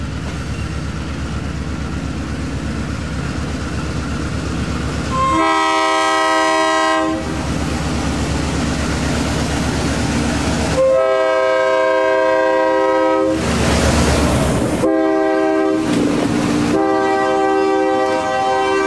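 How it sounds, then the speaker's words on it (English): A train rumbles along old jointed rail with rhythmic clacking over the joints, while a loud horn blasts several times in long and short bursts. "the train hobbles along the jointed rail."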